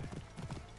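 Hooves of a horse clip-clopping in the Assassin's Creed Origins video game, a quick run of close, moderately loud hoofbeats in an uneven galloping rhythm.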